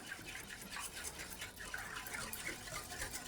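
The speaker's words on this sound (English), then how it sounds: "I've got my egg yolks, and to it, I'll add my milk" Milk pouring steadily into a bowl of egg yolks, a continuous close liquid splash and trickle with no talk.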